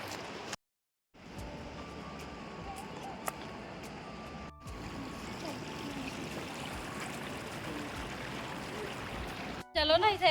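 A river flowing below a bridge, heard as steady broadband rushing water that runs almost throughout, briefly cutting out near the start, with faint tonal hums over it.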